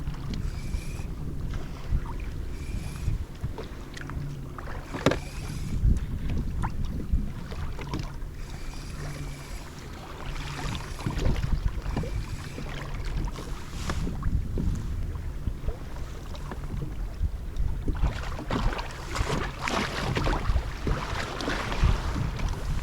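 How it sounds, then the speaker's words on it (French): Waves slap against a small fishing boat from behind, giving irregular splashes and thumps over rumbling wind and water noise close to the hull. "Quelques vagues qui m'arrivent par l'arrière, ça me surprend un petit peu."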